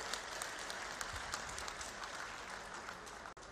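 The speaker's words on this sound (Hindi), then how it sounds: "मैं चाहूंगा एक बार जोरदार तालियां बजाकर आप सब लोग स्वागत करेंगे।" At a campaign rally in Dehradun, Uttarakhand, a crowd applauds to welcome Union Home Minister Amit Shah. The clapping is a steady, dense patter that sounds somewhat distant and subdued.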